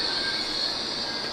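Steady broadband rush of a Chinese high-speed train with a faint high whine, heard from inside near the first-class cabin at Xi'an North station, continuous and fairly loud with no talk.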